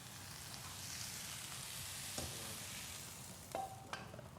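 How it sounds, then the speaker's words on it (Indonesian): A pot of sayur asem, a sour vegetable soup, bubbles at a hard boil with a soft, steady simmering hiss, broken by a few brief clinks and splashes as ingredients go in; faint and close, no talking. "Nah ini juga udah mendidih banget, terus bisa kita terjunin ke situ deh."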